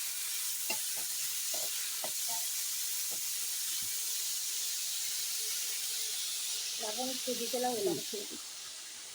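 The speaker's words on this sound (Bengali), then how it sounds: "গাজরটা আমি ভালো করে নেড়ে দিই" Carrots sizzling in a pan while being stirred, a steady soft hiss of frying with scattered scraping stirs and a short burst of louder clatter near the end.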